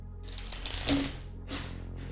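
A soft riffling shuffle of tarot cards, a few quick bursts of papery flicking close by over a faint low hum.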